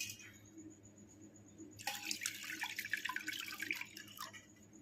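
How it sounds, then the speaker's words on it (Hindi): Water poured into a chicken biryani mixture: after a quiet start, a close splashing pour begins about two seconds in, gurgling unevenly before tapering near the end. "पानी देके भलसे गोलेगा।"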